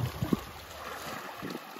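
Sea waves wash onto a Mallorca beach with clear water, a steady rushing swell blended with light wind buffeting the microphone and a few low thumps near the start.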